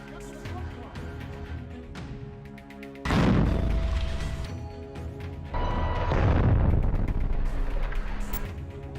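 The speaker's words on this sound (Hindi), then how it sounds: "जिससे जोरदार धमाका होता है।" A loud blast from a rocket launcher strike on an IDF tank in a Gaza combat setting, erupting suddenly as a heavy broadband roar that swells again and rumbles on, with no clear speech over it.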